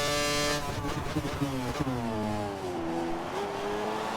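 Race car engines rev in the F1 2013 video game at the Australian round, a loud harmonic whine that sweeps down and levels off as gears shift, with a brief honk-like burst near the start.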